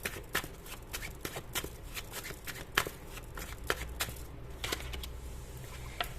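Tarot cards being shuffled and drawn by hand, a quick run of crisp, close riffling snaps and flicks in an uneven rhythm, steady throughout with no talking.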